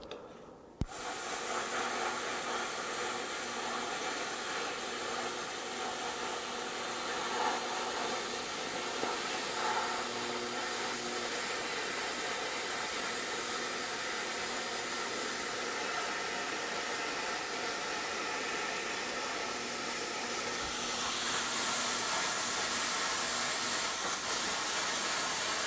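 YesWelder FIRSTESS MP200 plasma cutter slicing through metal at 33 amps, a steady loud roaring hiss that holds unbroken for the whole stretch, brightening slightly near the end, with no talking.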